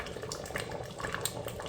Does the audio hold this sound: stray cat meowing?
no